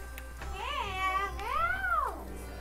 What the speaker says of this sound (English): Is the kitten behind my computer?